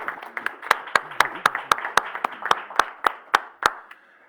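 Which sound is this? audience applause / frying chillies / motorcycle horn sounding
audience applause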